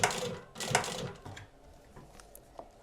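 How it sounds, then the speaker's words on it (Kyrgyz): Hand or machine sewing along the edges of an item, heard as bursts of rapid mechanical stitching clatter in the first second and a half, then fainter scattered clicks and a quiet background. "Ушинтип эле кырларын тигип,"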